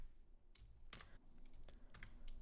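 Close, quiet keystrokes on a computer keyboard while code is typed, a handful of light clicks at uneven intervals with no talking.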